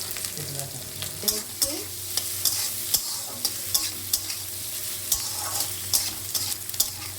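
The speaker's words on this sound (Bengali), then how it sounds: "তেল গরম হয়ে গেছে, এর মধ্যে দিয়ে দেবো কেটে রাখা পেঁয়াজ আর লঙ্কা" Chopped onion and green chili fry in hot oil for a fish curry, giving a steady, close sizzle broken by frequent sharp spatula scrapes and taps against the pan.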